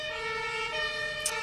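Emergency siren heard in passing, a steady wailing electronic tone with strong harmonics, moderately distant, with a brief sharp click near the end.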